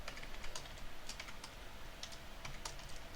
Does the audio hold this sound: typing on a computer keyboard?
yes